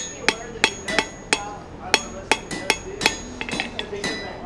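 A hand hammer strikes a steel leaf being forged, roughly a dozen sharp, ringing metallic blows in an uneven rhythm, close and loud, with the last few coming in quicker, lighter taps.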